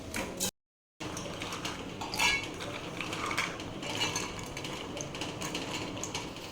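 New pots and dishes are washed, with metal clinks, knocks and scraping clatter under running activity; a brief dropout interrupts early, then irregular rattles and taps continue close by.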